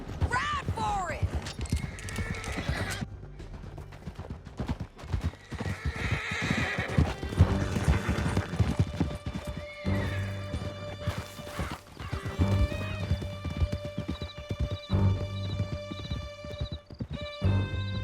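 Horses gallop at speed through a canyon in Red Dead Redemption 2, with steady clip-clopping hooves, whinnies and crashing action sounds layered under music and character voices.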